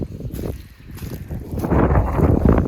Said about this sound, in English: the wind is awful here